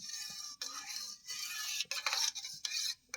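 A spoon stirs a chilled powdered-milk mixture in a bowl while sweet curd is being prepared, making quiet, close scraping strokes against the bowl in uneven bursts with short pauses between them.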